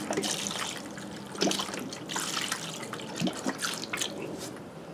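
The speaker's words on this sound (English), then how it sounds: "Pour some of this in there" Caustic paint-stripping liquid for refinishing a faucet is poured into a container in a garage, making a continuous gurgling trickle and splash with a few louder glugs, close and alone.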